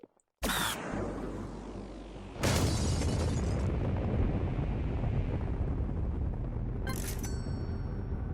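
A nuclear rocket launcher goes off in the video game Secret Of The Witch House, with loud booming blasts that hit abruptly and leave a long rumbling roar, followed by another sudden burst near the end.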